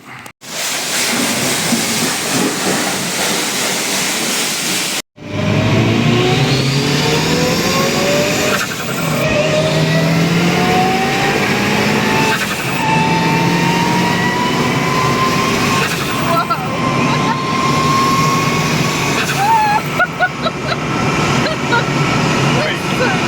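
A Mitsubishi Evo 2 swapped to an Evo 7 engine sets off and accelerates, its engine note rising through a few gear changes with a brief cut near the start, loud and close from inside the car.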